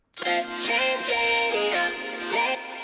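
Robotic vocoded vocal chords riding a bright, buzzy Serum saw-wave synth, sustained and shifting in short phrases with no plain speech.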